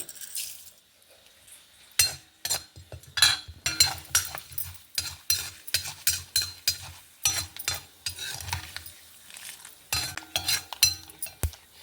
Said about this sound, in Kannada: ಸಾಸಿವೆ ಮಿಟ್ಟಿತಾ ಇತ್ತಲ್ಲ